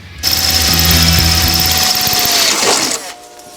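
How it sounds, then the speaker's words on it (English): A loud power drill drilling mounting holes for a Saab 900 intercooler whines steadily for about three seconds, a high-pitched motor drone with grinding, then cuts off abruptly. "drill a couple of mounting holes"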